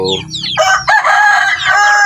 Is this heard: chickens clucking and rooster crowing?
yes